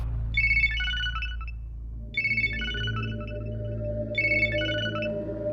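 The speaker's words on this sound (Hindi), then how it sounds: "भाई रिंग बज रही, वो उठा नहीं रहा है।" A phone ringtone rings unanswered on a call, with three short electronic trilling bursts at a steady two-second rhythm over a low background hum.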